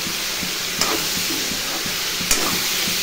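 Beans, potato and eggplant frying in a home kitchen pan, a steady sizzle and hiss with soft scrapes of stirring and a couple of sharper clatters, close and continuous with no talking.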